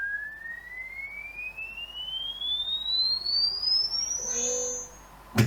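A coupled-oscillator synthesizer patch gives a steady sine-like tone that glides slowly upward in pitch, then roughens into a bowed, buzzing texture near the end before cutting off with a short thump.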